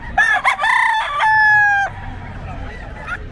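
A fighting gamecock crows loudly and close by at a busy pet market, one long strained crow with a rising start and a held, fading end, followed by low market background noise.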